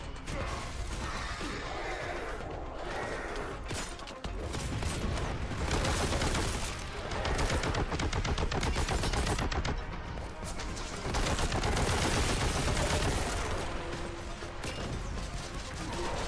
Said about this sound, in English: Let's throw some grenades at him.